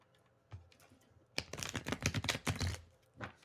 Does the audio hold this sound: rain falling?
no